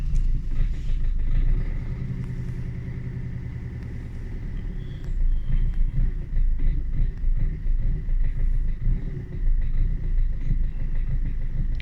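A diesel engine with erratic rail pressure cranks and then runs, a loud close rumble rising and falling through several revs with no talk over it.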